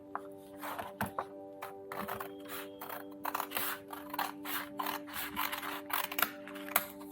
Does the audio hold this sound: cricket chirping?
no